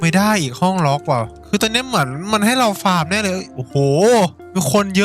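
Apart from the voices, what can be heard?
None of the usual background noises is heard.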